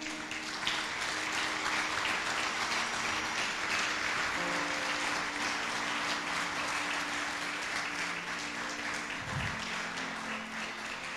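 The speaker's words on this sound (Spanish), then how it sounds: "Den un fuerte aplauso al Señor." A church congregation gives a sustained round of applause for the Lord during a sermon. The even clapping fills the room for about eleven seconds, with faint tones from the worship sound system underneath.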